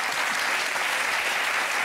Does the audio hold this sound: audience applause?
yes